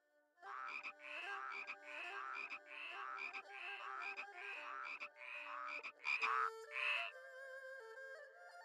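Game frogs croak in a steady, rapid rhythm from Shenmue III, a long run of repeated calls followed by a few sharper, louder croaks near the end, with no talk.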